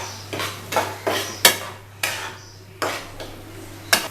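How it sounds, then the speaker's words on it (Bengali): Spoon scraping and tapping in a pan while onion is mixed into poppy seed paste, a handful of close, uneven clacks and soft scrapes with a faint steady hum beneath, no voices. "এবারে পোস্তর সাথে পেঁয়াজটা আমি ভালো করে মিক্স করে নেব।"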